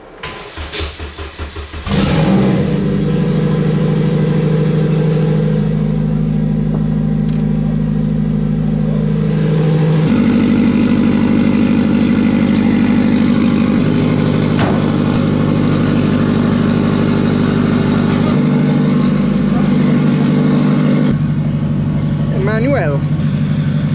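A turbocharged Honda making about 450 hp on 8 psi of boost starts up and revs loudly from inside the car while driving, the engine drone rising and falling, with voices talking over it.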